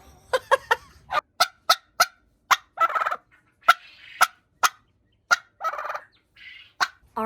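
Turkeys gobble in loud, rapid bursts, several calls in a row with short pauses, close by and without talk.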